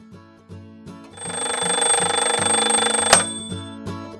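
In a cartoon, a wind-up alarm clock bursts into a loud, rattling metallic ring for about two seconds over light background music, then cuts off abruptly.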